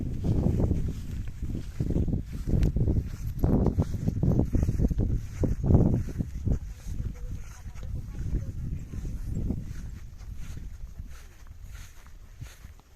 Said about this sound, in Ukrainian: Трохи вітер, але що ми зробимо?